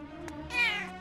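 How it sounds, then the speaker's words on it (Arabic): A pet cat lets out a single clear meow indoors, close and fairly loud, rising briefly and then trailing off within a second. "أنت هرة مشاغبة جدا"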